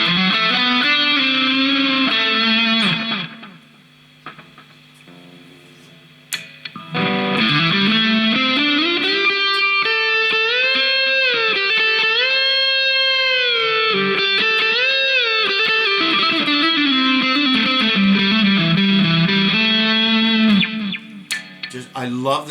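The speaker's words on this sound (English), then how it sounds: "I love the tones I'm getting out of this guitar." Electric guitar, a heavy Chinese-made 2019 model, with heavy distortion plays sustained, bending notes, cutting out briefly after a few seconds, then ringing on loudly for a long stretch.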